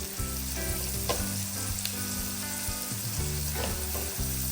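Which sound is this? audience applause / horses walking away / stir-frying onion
stir-frying onion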